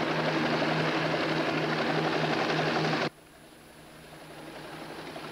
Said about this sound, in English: It's that chopper. He's come back again.